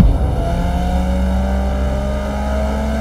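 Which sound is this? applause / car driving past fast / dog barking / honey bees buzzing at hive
car driving past fast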